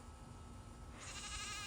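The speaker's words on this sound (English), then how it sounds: "why is that goat crying so much?" A goat bleats repeatedly and loudly at close range, its cries dense and sustained, strengthening partway through against farmyard background noise.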